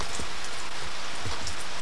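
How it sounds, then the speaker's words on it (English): Steady rain falls outdoors in Kentucky, a dense, even patter of drops hitting the surface, continuous and fairly loud with no voices. "I'm going to take some pictures of the rain."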